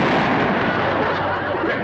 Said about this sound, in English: Jethro shot a fox.